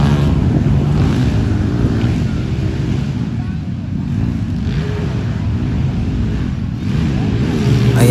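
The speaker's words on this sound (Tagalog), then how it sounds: "Kahit China bikes lang yan, pero napaka power talaga ng mga motor nila" Chinese motocross motorcycles racing at a 2024 motocross event in Tupi, South Cotabato, heard as a continuous loud engine roar mixed with heavy wind noise, with someone talking over it.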